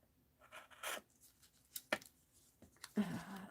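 Scissors snip through fabric for a handmade rag doll: several short, close, quiet cuts with irregular pauses between them, including a longer rustling cut near the end, with no talking.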